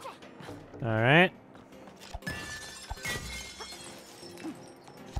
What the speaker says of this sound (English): Good smashing.